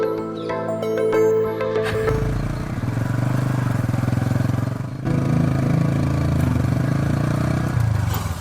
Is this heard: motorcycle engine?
yes